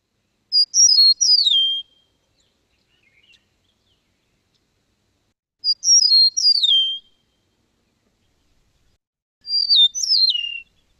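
Eastern meadowlark song, three clear, high, slurred whistled phrases separated by long silent gaps, each phrase descending and slightly squeaky, heard alone with no voices.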